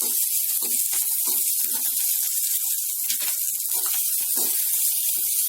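Green chillies frying in hot oil for a spicy Karnataka rice bath, a loud continuous hiss and sputter with irregular spitting bursts, close up.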